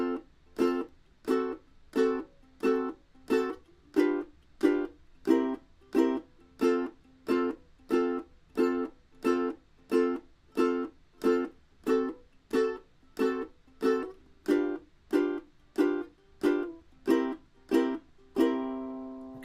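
A single instrument plays a tune as a run of evenly spaced, short damped notes, each cut off quickly in a steady pulse, about two dozen strokes ending on a longer ringing note, with no singing or talk.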